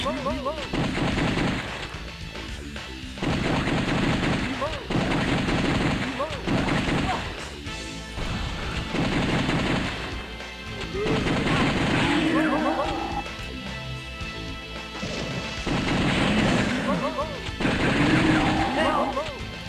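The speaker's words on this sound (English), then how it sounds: "You can hear the gunshots going off." Bursts of heavy gunfire from a game come in repeated volleys with brief pauses, loud and close, with voices and other game sounds underneath.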